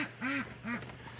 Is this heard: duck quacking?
yes